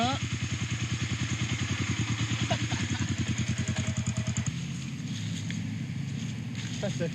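A vintage 1970s Laverda motorcycle engine chugs steadily up close with a rapid, throbbing beat, then cuts to a quieter idle-like hum in the last few seconds.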